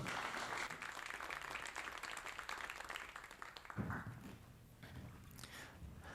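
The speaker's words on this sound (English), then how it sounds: "Please welcome with a big hand of applause," An audience at a TEDx university event claps to welcome the next speaker, a moderately distant, continuous patter of hands with some shifting bursts.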